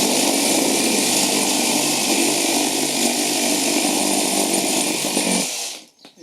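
A Makita 2nd-generation 40V reciprocating saw cuts through material in a loud, steady, close-up buzz lasting about five seconds. The sound then cuts off abruptly and leaves near silence.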